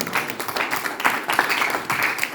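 A church congregation claps together, a dense, fairly loud burst of many hands with uneven swells, continuing throughout without pause.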